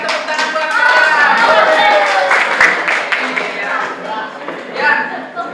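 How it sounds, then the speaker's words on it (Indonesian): Students in a school physical education class clap together in a lively, fairly close burst with voices mixed in, and the clapping thins out toward the end. "tepuk tangan buat kalian"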